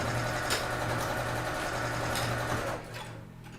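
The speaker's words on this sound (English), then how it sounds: "I'm going to backstitch a couple of times where that elastic is" A sewing machine backstitching over elastic on a fabric coffee cozy gives a loud, close, steady mechanical whir with a rapid needle rhythm that winds down to a stop near the end.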